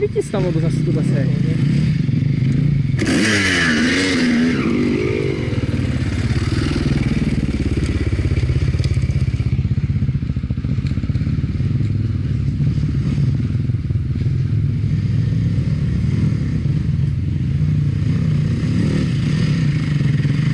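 A motorcycle engine at a motorcycle club outing runs loud and close throughout, with rough revving and clattering mechanical noise while people talk over it.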